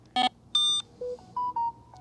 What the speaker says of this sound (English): So I've had the alarm, the receiver went off, and then I got the phone notification as well.